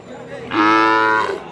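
Cattle at a border-area livestock market lowing once in a single loud, drawn-out moo lasting about a second, standing alone close by with faint market murmur around it.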